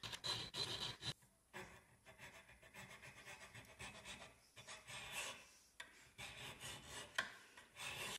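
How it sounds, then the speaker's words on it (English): Metal being filed by hand with filing buttons on a part of a vintage steam toy, a close, steady series of rasping strokes with brief pauses between passes. "Filing buttons are really actually very satisfying to use."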